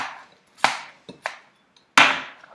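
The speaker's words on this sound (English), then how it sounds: "just chopping that up." A knife chops through a bell pepper on a board: a few crisp, separate cuts with short pauses between, close and fairly loud.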